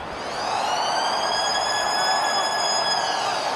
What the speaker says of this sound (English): look to survive as the siren for half time is about to sound